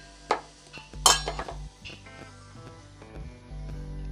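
A few light clinks of metal and ceramic as a small bowl is set into a pot of water, a sharp knock followed by softer scraping and settling sounds, close by.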